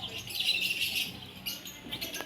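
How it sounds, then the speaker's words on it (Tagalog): Bright, high bird chirps at a mini zoo in Pugo, La Union, Philippines come in a quick run of calls, fairly close, then thin out into a few scattered tweets. "Ayan oh, ibon oh."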